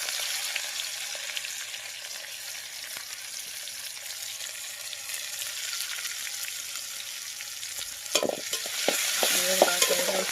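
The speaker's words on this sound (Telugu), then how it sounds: "ఇంక ఈలోపు అయితే నూనె కూడా బాగా వేడెక్కింది కదా, ఉల్లిపాయలు వేసేసాను." Onions and green chilies fry in hot oil with a steady, close sizzle, and a few louder stirring scrapes come near the end.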